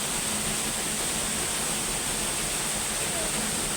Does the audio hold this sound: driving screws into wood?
no